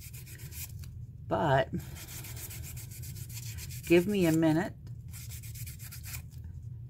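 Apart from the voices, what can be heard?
sanding a polymer clay bead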